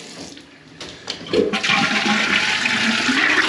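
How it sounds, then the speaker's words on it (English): A toilet in a renovated house flushes loudly and close by, a brief click of the handle followed by a sustained rushing gush of water that continues steadily to the end, with no voices. "All the toilets are on, working."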